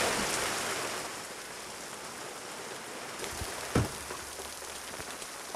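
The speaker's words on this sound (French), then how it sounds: "On m'envoie la pluie, s'il vous plaît." Artificial rain pours steadily on a French comedy film set, a dense, even hiss of water spattering over surfaces, with a sharp knock midway and a brief thump at the end.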